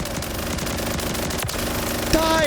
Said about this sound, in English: I'm shooting 50 caliber rounds!